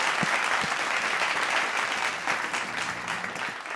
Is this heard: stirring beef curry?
no